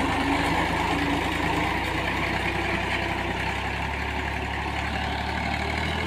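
A small old Fiat tractor engine runs at a steady idle, a continuous low throbbing rumble with mechanical clatter, close and constant without talk.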